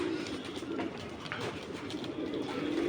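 A continuous low cooing from a group of pet pigeons in a loft rolls on without a break, blending with steady background hiss.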